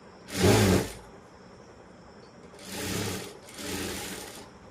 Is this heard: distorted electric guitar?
no